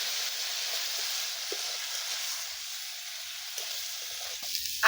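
Potatoes and drumsticks fry with a splash of water in a pan, giving a steady, hissing sizzle that holds evenly, with a faint clatter at the very end.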